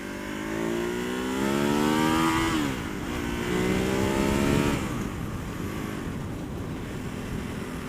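A Ducati Hypermotard 939 motorcycle in urban riding mode pulls under throttle, its engine note climbing smoothly through two rising sweeps with a brief dip between, then easing to a steady cruise drone amid wind noise.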